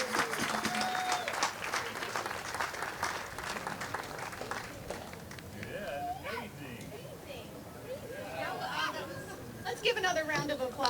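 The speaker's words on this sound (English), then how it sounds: "Let's give another round of applause for Myrna." Applause for Myrna at an outdoor mural dedication, a crowd clapping loudly for several seconds that thins into murmuring chatter and light laughter, then a fresh burst of clapping at the end, with voices talking throughout.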